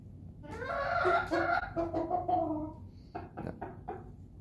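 Backyard chickens clucking and calling up close. One bird gives a drawn-out, wavering call, then a series of short, clipped clucks follows, with no talking.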